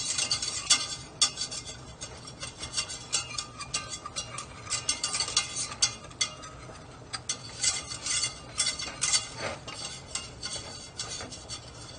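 A utensil stirs and scrapes through cheese sauce for mac and cheese in a pot. The rubbing strokes are busy and irregular, with occasional light clinks, and no voices are heard.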